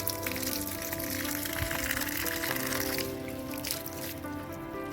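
Water pours and trickles steadily onto grapevines in a vineyard, a continuous close splashing flow with no talk.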